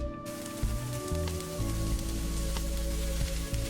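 Crumbled tofu, carrot and spring onion fry in a pan for a Japanese vegetarian bento, a loud, steady close sizzle that runs throughout over soft background music.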